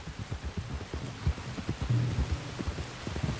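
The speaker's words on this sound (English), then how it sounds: "you were right about the damn rain" Rain pours steadily in the Red Dead Redemption 2 video game, with low thunder rumbles and dull thuds under the constant hiss of the storm, no talking.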